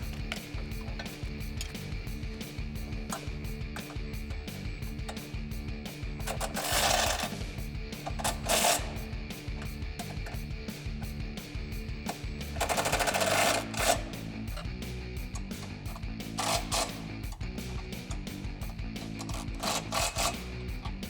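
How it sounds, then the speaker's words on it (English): A ratchet tightening 16mm and 17mm bolts on Jeep Wrangler JL side step bars, with rapid repetitive mechanical clicking close up and a few louder metallic bursts. "we're gonna go ahead and tighten up our last bolts for the steps using that 16mm and 17mm"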